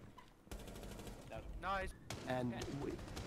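Gunfire in the Rainbow Six Siege video game, a few faint, muffled distant shots heard under someone talking over the gameplay.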